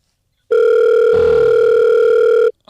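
A telephone call reaches a voicemail system, giving a loud, clean electronic tone that holds steady for about two seconds, then stops, and a second tone starts at the very end.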